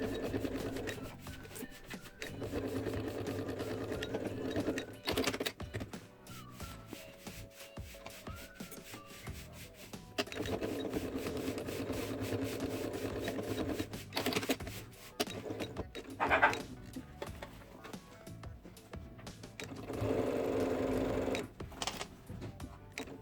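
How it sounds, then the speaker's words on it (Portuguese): A sewing machine closes a small opening on a double pencil case with a zigzag stitch. It runs in several steady bursts with short pauses between them, each burst a close, even mechanical whir, and nobody speaks. "vou fechar essa abertura com ponto zigue-zague"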